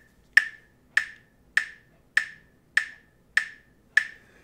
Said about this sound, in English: I have on my phone something called a metronome.